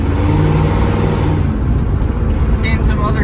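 An LS-swapped classic Firebird engine runs steadily with a low rumbling drone while driving, close and constant, under a faint voice.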